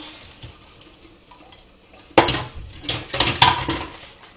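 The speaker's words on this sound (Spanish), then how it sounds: "pasado unos 13 minutitos ya podremos quitar las patatas. Las colaremos." Clattering of a metal pot and utensils as boiled potatoes are lifted out and strained, a quiet opening followed by a burst of clanks and scrapes in the latter half, close and fairly loud.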